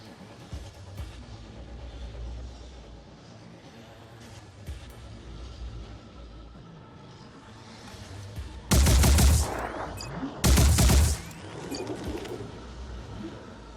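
Two loud, sustained bursts of cannon fire in a video game, each lasting under a second and a half, stand out sharply over a steady low game ambience with scattered faint pops.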